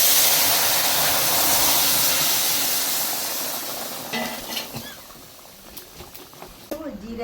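Dried red chillies and cumin seeds hit hot oil in a wok with a loud, dense hiss that slowly fades, leaving lighter crackles while a voice talks toward the end.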